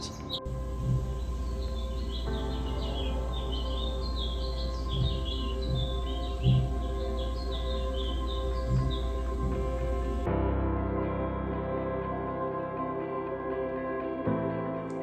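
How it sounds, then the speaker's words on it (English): Small birds chirp and twitter continuously in the background over a steady low hum, the chirping stopping abruptly partway through. "the birds have been chirping all day"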